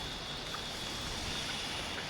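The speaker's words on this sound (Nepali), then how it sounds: "पानी आएको छ" Rain falling outdoors, a steady, even broadband hiss with no distinct drops, fairly soft and continuous throughout.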